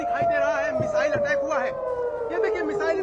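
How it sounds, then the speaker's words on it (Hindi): An air raid siren wails with a slowly falling tone during a missile attack near the Israel–Lebanon border, sounding continuously while someone talks over it. "धमाके की आवाज सुनी जा सकती है और सायरन यहाँ पर लगातार बज रहे हैं"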